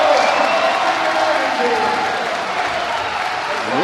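Large arena crowd at the Arnold Strongman Classic roaring and applauding in a steady, dense wash during a stone-lift event, with a commentator's voice layered over the noise throughout.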